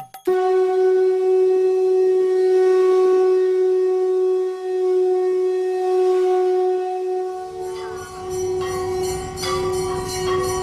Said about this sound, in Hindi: मंदिरों में शंखनाद होने लगता है